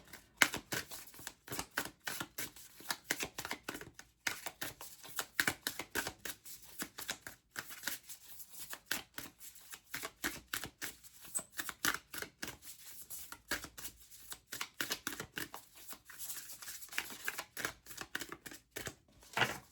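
Tarot cards being shuffled by hand, a rapid, irregular series of soft riffling and slapping flicks, quiet and close, continuing in bursts for about twenty seconds with no talking.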